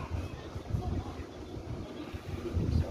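Strong wind buffeting at the top floor of a tall tower beside a suspension bridge in Singapore; low rumbling gusts batter the microphone in uneven surges, close and loud throughout.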